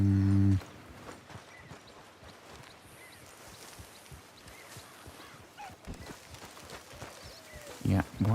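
Horses clip-clop in the video game Red Dead Redemption 2, with soft, steady hoof falls passing at moderate distance beneath ongoing talk.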